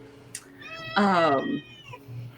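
A cat meows once in a single loud, drawn-out call close to the microphone, preceded by a brief high chirp, with quiet background hum from a voice chat.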